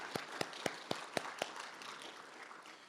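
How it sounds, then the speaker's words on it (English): A handful of sharp, evenly spaced claps ring out at a biomedical informatics and data science symposium, fading after about a second and a half into quiet room tone. "I'm going to lead a round of applause for that"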